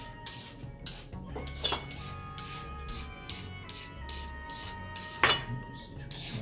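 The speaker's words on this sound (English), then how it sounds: "Chop in the carrot. Peel it a little bit." A fresh carrot being peeled by hand in a home kitchen while making crab cakes: repeated short rasping scrapes in a steady rhythm, close by, with a few light clinks of utensils and no talking.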